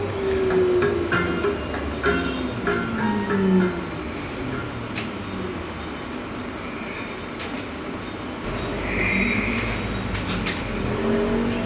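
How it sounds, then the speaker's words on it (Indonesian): Zhongtong electric TransJakarta bus on Koridor 6C in Jakarta, driving with a steady rolling road rumble and a rising and falling whine from the electric motor, a few rattles and clicks from inside the cabin, no talk. "Ini kita dapat yang bus listrik loh, gokil."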